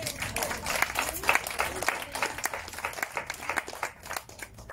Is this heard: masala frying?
no